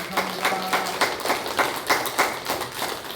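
A church congregation at a Sunday worship service applauds with steady, rhythmic clapping at a moderate distance. The claps stay fairly soft throughout the short burst.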